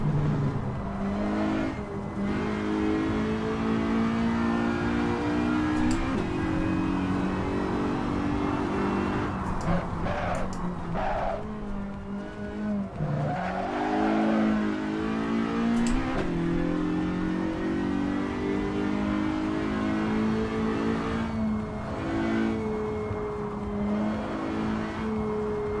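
Race car engine in a realistic racing simulator game, a steady loud droning whine that rises and falls as it revs and shifts, running continuously with no talk.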